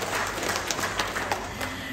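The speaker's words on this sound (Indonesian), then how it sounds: "Tepuk tangan untuk panjenengan semua." Audience applause at a community donation event, a steady dense patter of clapping filling the room at moderate level throughout, with no talk over it.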